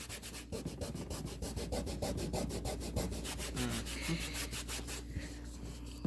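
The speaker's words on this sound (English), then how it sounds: "just a little more power to it with the Norwex cleaning paste" Cleaning paste scrubbed over a surface with rapid, steady back-and-forth rubbing strokes, close and fairly quiet, continuing without pause and with no voices.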